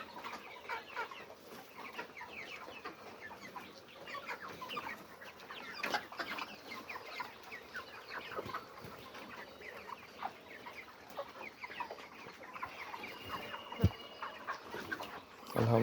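Chickens on a poultry farm cluck and murmur continuously, a busy flock chorus with many overlapping short calls at moderate distance and an occasional louder squawk, with no talk.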